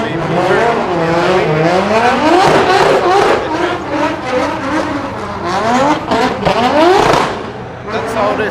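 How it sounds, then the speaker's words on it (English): A rotary-engine drift car warms its tires during practice at a drift event in Germany, engine revving and wailing in rising and falling sweeps with tire squeal, loud, under a commentator's talk. "That's how it is from rotary engine warming up some tires."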